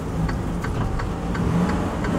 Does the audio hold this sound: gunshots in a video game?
no